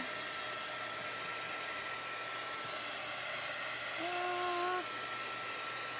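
A heat tool blows hot air over chalk paste on a craft project, a steady whooshing hiss with a brief rising whine near the end, with no talking.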